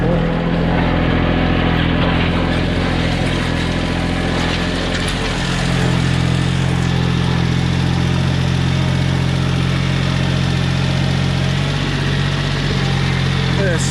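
Tractor engine chugging steadily while cultivating rows, a loud, continuous low idle-like drone close by with slight shifts in load, and someone talking over it.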